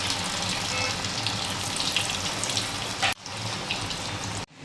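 Crispy cabbage vadis frying in hot oil make a loud, continuous hiss that fills the kitchen, with two abrupt breaks in the sound near the end.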